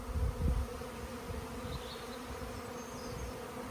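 Honeybee swarm buzzing around a stack of hive supers as the bees cluster into a ball, a steady dense hum heard close by with a brief louder thump near the start.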